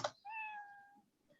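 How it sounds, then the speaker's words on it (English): A cat meows once, clear and tonal, as a Scratch programming sound effect. It is brief and isolated against near silence. "Did you hear meow 3 times or just 1 time?"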